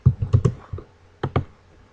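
Clicks and keystrokes on a computer keyboard and mouse, a quick cluster of four or five sharp taps followed by a pause and two more, close and fairly quiet.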